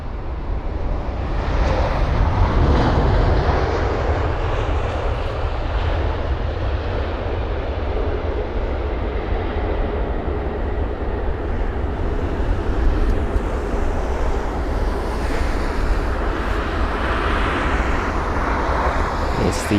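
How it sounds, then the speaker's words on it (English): A Virgin Atlantic Boeing 787-9 landing at London Heathrow roars loudly and steadily throughout, its engine and rushing air noise close and sustained, with wind buffeting the microphone. "this is going to be a Virgin Atlantic 787 up next"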